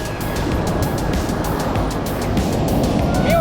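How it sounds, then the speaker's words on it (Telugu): Large ocean waves rolling onto the shore at a surf beach, a loud continuous roar of breaking surf that builds slightly toward the end. "పెద్ద వేవ్స్ వచ్చేస్తున్నాయి"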